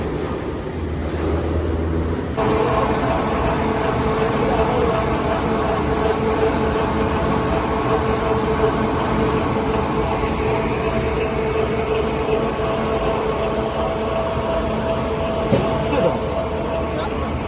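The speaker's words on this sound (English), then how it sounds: "This feeding conveyor, this rotating speed of the drum." Coconut shell charcoal machine running steadily, its feeding conveyor and rotating drum giving a loud continuous mechanical rumble and hum with a faint whine, unbroken for the whole stretch after a brief quieter start.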